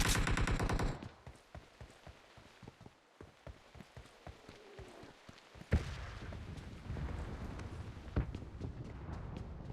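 Bursts of rapid gunfire in PUBG Mobile crackle in quick rhythmic volleys, loud at first then sharper isolated shots, over a dense background of battle noise.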